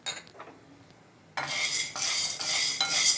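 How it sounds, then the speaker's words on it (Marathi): Chickpeas and black-eyed peas dry roasting in a pan, quiet at first, then loud rattling, scraping stirs and clatter of dry legumes against metal in repeated bursts, close. "हे दोन्ही एकत्र भाजूया."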